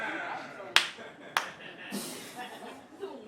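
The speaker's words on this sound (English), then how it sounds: "one solemn clap." A single solemn clap at a stand-up comedy show, sharp and close, followed by a second smaller smack, with a comedian talking and the audience murmuring around it.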